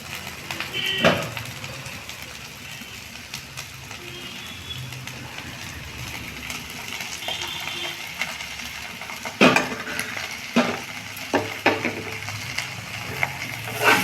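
Cooked vegetables and boiled peas with tomato ketchup being stirred in a pan, soft scraping and occasional sharp clinks of a spoon against metal, quiet and close, with a few louder taps near the end.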